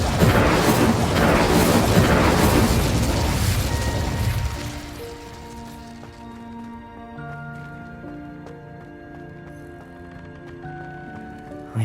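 A fire spell blast in Hogwarts Legacy erupts as a loud, rumbling whoosh that lasts several seconds, then fades into soft, sustained musical tones.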